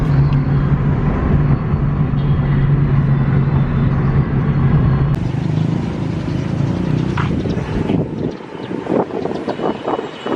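A motorcycle travels along a road, with loud, constant wind rush and engine drone buffeting the microphone. The roar eases slightly toward the end.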